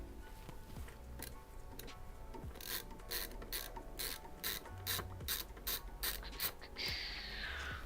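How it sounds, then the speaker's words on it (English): Screws come out of the base of a 3D printer, with a driver ratcheting in a rapid run of crisp clicks and ticks, near and steady, with no talk. "get the base screws out of this thing"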